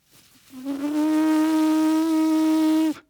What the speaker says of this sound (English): I tightened up my lips and the buzz started happening